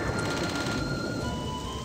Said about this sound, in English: Playing in the rain is fun.